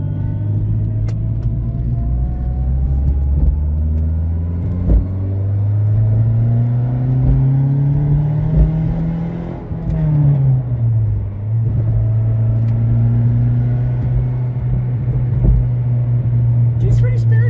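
Turbocharged Chrysler PT Cruiser GT driving on low boost, with a loud steady engine drone that rises and falls through the gears and someone speaking over it.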